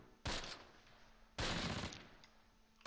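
Two faint, distant bursts of gunfire echo across the battlefield in the WWII strategy game Close Combat: Last Stand Arnhem at Groesbeek Heights, each a crackling volley that fades out, with no talking.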